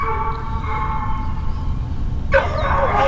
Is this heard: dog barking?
yes